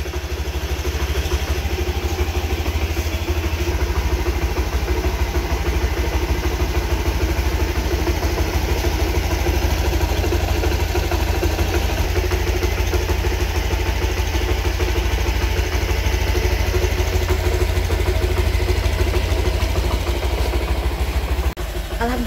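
A freshly washed motorcycle idles to warm up, its engine giving a loud, steady low rumble with light clatter that runs unbroken for over twenty seconds, close by and without talk.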